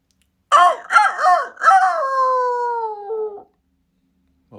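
Human voice imitating a wolf howl: a few short yelping rises followed by a long sustained wavering wail that slides down and trails off, loud and close in a quiet room.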